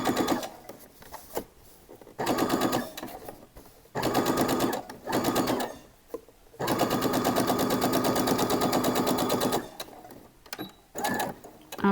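Sewing machine stitching a curved trouser seam about 1 cm from the edge, running in several bursts of rapid, even needle clatter broken by short pauses, close and clear with no talking.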